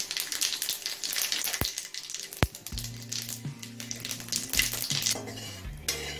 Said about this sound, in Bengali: তেলটা গরম হয়ে গেছে, এবার গোটা জিরে ফোড়ন দেব 1/2 চামচ।